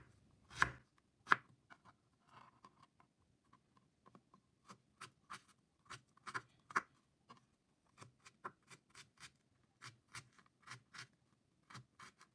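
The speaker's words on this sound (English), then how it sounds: "Again, we're going to chop the ginger." Knife chopping ginger on a cutting board, a string of sharp, quiet taps, sparse at first and then settling into a steady, fairly quick rhythm, with no voices.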